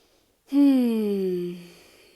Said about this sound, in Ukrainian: коли я дихаю повно, розширено, я створюю як такий насос для лімфи